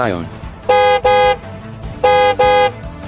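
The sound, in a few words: car horn honking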